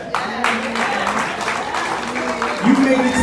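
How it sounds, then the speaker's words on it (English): A crowd at the JFK High School 2019 graduation bursts into applause, steady clapping heard close and loud, with voices and cheering mixed in over the top. "give yourself a round of applause because you did it"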